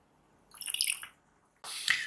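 Water poured into a dram of Black Label 12 year Scotch whisky, heard as two short bursts of pouring and trickling splashes, close and fairly quiet, with no talking.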